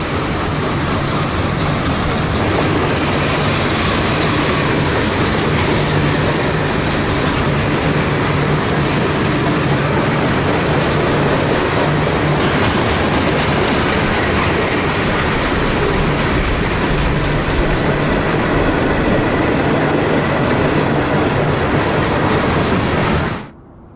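A CSX freight train, Q689, rolls past on the ex-Atlantic Coast Line Fitzgerald subdivision in Georgia, a loud, steady rumble of wheels and clickety-clack across the rails that holds without pause and then stops abruptly.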